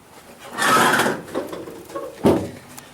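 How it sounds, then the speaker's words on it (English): A 1973 Volkswagen Beetle car door swings open with a rustling clunk, followed shortly by a firmer thud as it shuts, close by. "The doors open and close properly."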